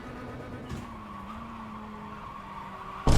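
Race car in the iRacing sim game, a quiet, steady engine whine with tire scrub lasting about three seconds before a sudden loud burst of noise at the end, no voices.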